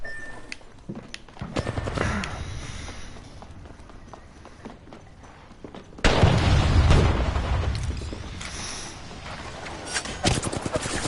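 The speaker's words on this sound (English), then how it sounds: "They're shooting at me." Gunfire in the battle royale game Apex Legends, with bursts of shots and booms growing louder and denser partway through, sitting among other game effects.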